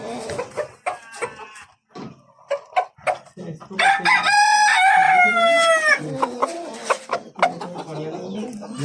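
Fancy-breed chickens cluck in short bursts close by on a poultry farm in Kolkata, then a rooster lets out a long, loud crow midway before the clucking resumes.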